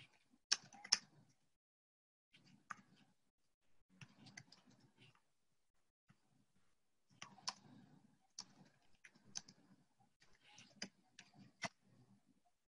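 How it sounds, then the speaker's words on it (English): Faint, quiet typing on a computer keyboard during an online seminar, with irregular bursts of key clicks separated by short pauses and no voices. "I'm just typing, check the volume."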